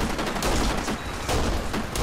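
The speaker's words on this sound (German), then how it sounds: "Wo kommen jetzt noch Schüsse her?" Dense, continuous video game gunfire from Kane & Lynch crackles in rapid overlapping bursts, a loud sustained fusillade with no pauses.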